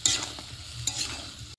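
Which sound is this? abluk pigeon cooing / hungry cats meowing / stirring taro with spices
stirring taro with spices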